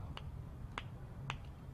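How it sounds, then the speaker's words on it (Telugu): Three crisp finger snaps spaced evenly about half a second apart, sharp and close, over a low background hum with no talk. "చిటికి లేస్తాం"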